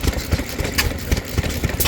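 A 1 horsepower Mogul stationary engine runs at a fall fair with a steady, low chugging beat, several firing pulses in quick rhythm, fairly close and with no talking.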